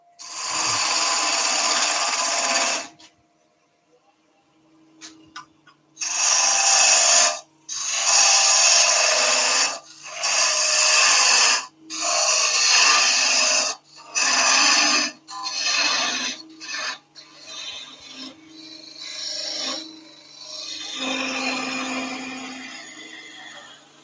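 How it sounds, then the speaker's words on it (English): Power sanding of the bottoms of turned wooden egg cups to remove the leftover pip after parting off, heard as repeated loud bursts of abrasive whirring separated by short pauses, with no talk. "we'll just sand the bottoms just to get rid of that"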